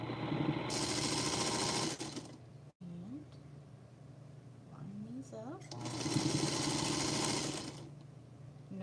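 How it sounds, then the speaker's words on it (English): A sewing machine stitches fabric for quilt friendship stars in steady whirring runs, one long burst, a short pause, then another sustained run, close and fairly quiet, with a person talking over parts of it. "So I'm going to go ahead and feed this in the machine."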